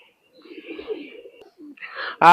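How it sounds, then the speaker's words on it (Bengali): Two male Shaki breed pigeons give a few soft, close coos in short bursts separated by silence, followed by a sharp louder sound at the very end. "এখানে দুইটাই নর কবুতর দেখেন মাসাল্লাহ টপ কোয়ালিটি সাকি ব্রিডের ভিতরে"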